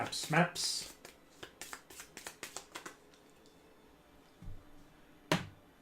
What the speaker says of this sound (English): Give that a nice shuffle